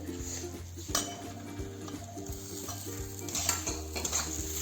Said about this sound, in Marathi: असं जरा थोडंसं ते हलवत राहायचं जेणेकरून ते हे एकजीव होईल